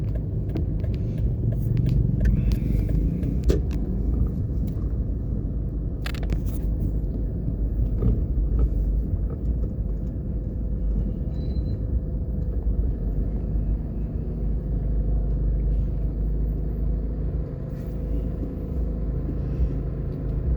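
Steady low road rumble from inside a car driving along South Avenue in Jamaica, with broadband traffic noise and a few brief knocks, continuous and fairly close throughout.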